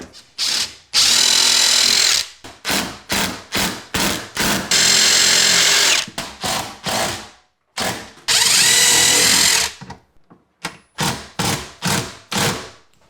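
Power drill driving screws through ready-to-assemble kitchen cabinets into wall studs: a series of loud, close whirring bursts of varying length, separated by short pauses and occasional knocks, with no talk.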